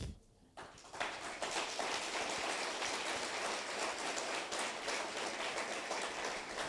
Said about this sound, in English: I want us to give them a better clap